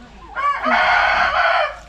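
A turkey gobbles close by in a rural Karen village, a single loud, sustained burst of rattling calls lasting over a second with no talk over it.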